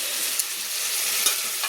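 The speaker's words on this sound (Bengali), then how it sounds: "মশলার সঙ্গে একটু নেড়ে নিচ্ছি" Spices are stirred in a pan of prawn curry cooking over a village clay stove, a steady broadband sizzle with two or three faint scraping accents, heard alone.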